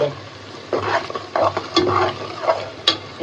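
Chicken khichuri with whole garam masala, cardamom, tomato and green chilli being stirred and fried in a pot, with a steady low sizzle and several scraping spoon strokes plus a couple of sharp clinks against the pan.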